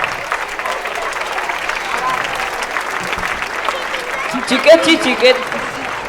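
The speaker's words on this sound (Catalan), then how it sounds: "vull que rebeu amb un fort aplaudiment a Aisea, Arana i Maui" An audience at a school singing event gives steady, dense applause for the young performers, a continuous wash of clapping that swells a little near the end with voices mixed in.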